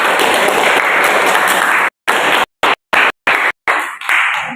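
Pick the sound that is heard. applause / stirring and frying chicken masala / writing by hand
applause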